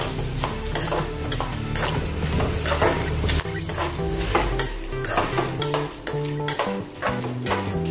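Dried red chillies, green cardamom and spices sizzling and frying in a pan over a gas flame while a spoon repeatedly scrapes and stirs, producing rhythmic clinks over a steady crackle with no talking.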